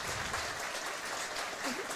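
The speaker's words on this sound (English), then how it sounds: "gets upright and gets a nice ovation here from the crowd at Fergie" Crowd applause and cheering at Fergie Jenkins Field, a steady broadband ovation for a baseball player getting back up after a foul tip, Chatham Barnstormers versus Welland Jackfish, sustained and even throughout with no talk.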